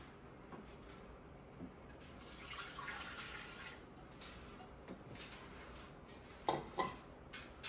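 Water poured into a bread machine pan as the liquid for a 2-pound loaf of dough, a soft continuous splashing stream with a few brief louder splashes near the end, heard alone without talk.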